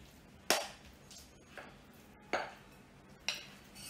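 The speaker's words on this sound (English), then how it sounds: "I'll put all these crushed biscuits and cocoa mix in it and press it tightly" Crushed biscuit and cocoa mix pressed into a lined 9-inch pan, heard as four sharp knocks and taps of a utensil against the pan in a quiet room.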